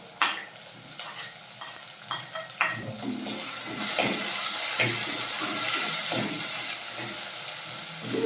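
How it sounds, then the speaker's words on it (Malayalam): Onions, green chillies and tomato sautéing for a prawn curry, starting with clattering stirs and scrapes of a spoon in the pan, then swelling into a loud, continuous sizzle with ongoing stirring close by. "ഉള്ളി നന്നായിട്ട് വാടിക്കഴിഞ്ഞാൽ നമുക്ക് ഇതും കൂടി ചേർത്തിട്ട് ഒന്ന് വഴറ്റിയെടുക്കും."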